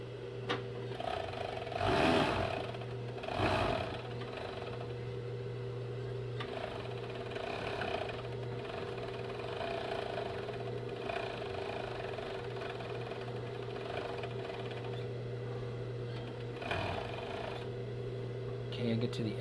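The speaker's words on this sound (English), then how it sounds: "So what the serger does is it cuts and puts that nice finish on all in one." A serger sewing machine stitching and trimming fabric for a pouch runs as a steady mechanical hum with a few louder bursts along the way.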